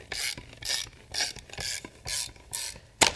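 Spellbinders die-cutting machine rollers cranked by hand, giving a run of six or seven rasping, ratcheting mechanical passes in a steady rhythm, close and clear, ending on a sharp click, with no talking.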